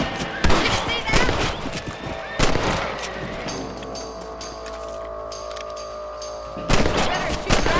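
Rapid bursts of gunfire in the Red Dead Redemption video game as rabbits are shot, loud volleys at the start, around two and a half seconds and near the end, with quieter game ambience between.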